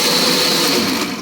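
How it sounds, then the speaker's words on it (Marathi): A kitchen mixer grinder whirs steadily as it grinds a sago vada mixture, a loud continuous motor drone that fades slightly at the end, with no talking. "हे बरोबर मी मिक्सरला बारीक करून घेतलेलं आहे"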